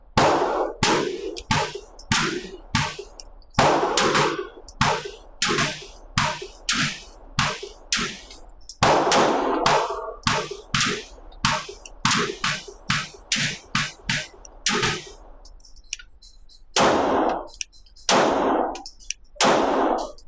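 A Gforce Arms Exodus RPX-9 shotgun, fitted with a compensator and an upgraded recoil spring, fires a rapid string of loud, sharp shots close by, each followed by the clack of the action cycling, with a few short pauses in between.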